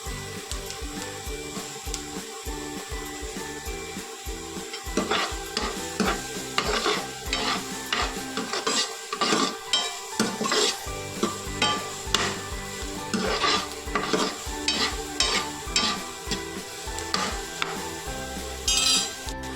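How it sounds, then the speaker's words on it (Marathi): Vegetables and carrots being stirred in a pan cooked without oil, brisk rhythmic scraping of a spatula against metal over a continuous sizzle, close and busy throughout. "ही सुद्धा थोडी हलवून घ्यायची आणि त्याच्याबरोबर गाजर सुद्धा तेव्हाच टाकून घ्यायचे।"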